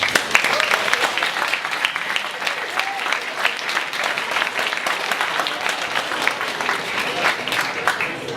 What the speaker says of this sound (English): a round of applause for all 18 students